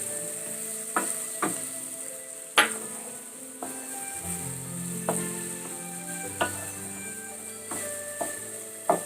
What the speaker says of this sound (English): Fry the tomatoes only till it becomes a little soft.